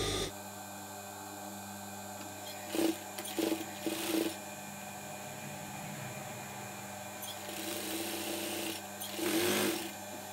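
A sewing machine stitches a long seam on fabric for simple homemade sleepwear, running in short bursts of rapid mechanical whirring separated by quieter pauses.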